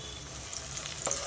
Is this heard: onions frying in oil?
yes